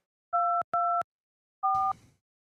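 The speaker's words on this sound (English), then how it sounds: "I don't like this dial tone thing" A telephone line during a call sounds two short identical electronic beeps, a pause, then a third, steady two-tone pulses of a busy-signal pattern, ending in a brief crackle.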